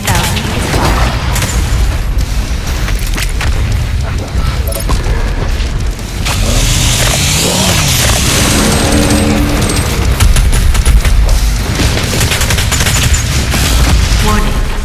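BFG 10,000 firing in Doom Eternal: a continuous roar of heavy booms and rumbling blasts fills the whole stretch, with dense explosive crackle, a brief dip near six seconds, and a warning voice speaking over the din.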